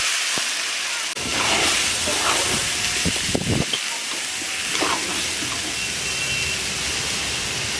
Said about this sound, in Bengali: এবার চালগুলো ভেজে নিচ্ছি।